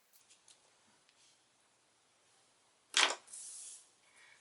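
Adhesive backing peeled off a die-cut paper piece for a Halloween card, heard as a short, close, crisp peeling rip after a quiet stretch with faint small taps and paper handling.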